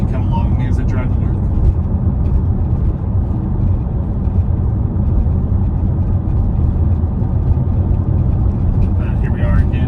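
Steady road and wind roar inside a 2024 Tesla Model Y all-wheel-drive long range driving on a red-flag day of high winds, a constant low rumble with someone talking over it.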